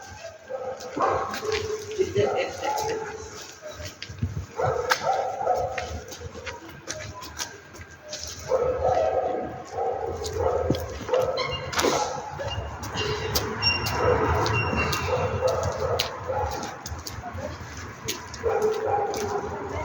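A dog yips and whimpers in repeated bursts, with some barks, over outdoor background noise and occasional movement sounds.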